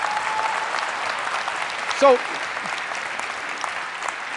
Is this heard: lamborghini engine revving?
no